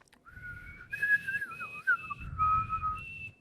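Someone whistles a wavering tune up close, with sliding pitch bends and a few sustained notes, loud and clear over low breathy rumble, no speech.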